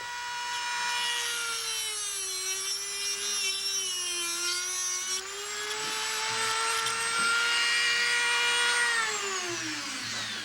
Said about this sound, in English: we're just going to trim off that extra little piece of bolt